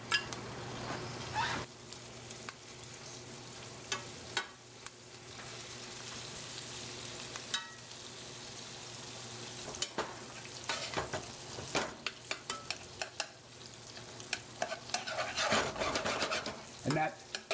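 Butter melting with crushed garlic and thyme in a hot pan on low heat beside a steak, a soft continuous sizzle broken by scraping and clanking of utensils, growing busier toward the end, close by.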